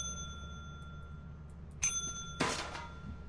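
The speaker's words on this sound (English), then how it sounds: "I rang the bell too many times." A counter bell at the company desk in Lethal Company rings twice, each a bright metallic ding with a lingering ring, the second stronger and rougher, over a steady low game hum.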